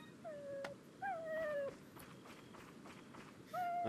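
A dog whining and crying in the Resident Evil 4 VR video game, with a few high, drawn-out whimpers spaced apart among soft rustling and light game sounds, fairly close and moderately loud.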